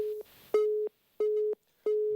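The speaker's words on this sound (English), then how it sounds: "That's a beep of a dropped call." A telephone tone signalling a dropped call on a live broadcast phone-in: three long, steady electronic beeps with short silent gaps, loud and clear with no talk over them.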